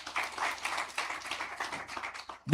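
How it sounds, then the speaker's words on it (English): Scattered clapping rises from a conference audience at a digital technology exhibition in Africa, thinning out and fading, then ending in a single loud close thump. "I thought you would clap for yourself"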